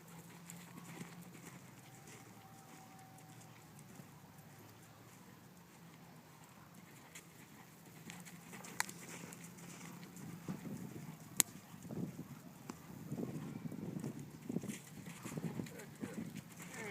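Horse hooves clopping while a mare is long reined during training, faint and distant at first, then growing into soft, irregular thuds in the second half, with a quiet voice speaking now and then.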